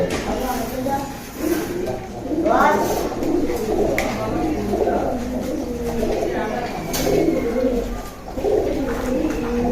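Pigeons coo repeatedly in low throaty warbles, close by, with some background chatter and rustling mixed in.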